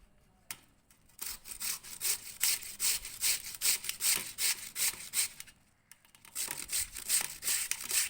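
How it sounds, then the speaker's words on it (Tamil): Chayote (chow chow) being grated on a hand grater for bondas, a steady run of close, rhythmic scraping strokes that pause briefly midway before resuming. "பாருங்கள் சுரண்டர் சவுண்டு கேட்குது இல்லைங்களா தரக் தரக் தரக் தரக்"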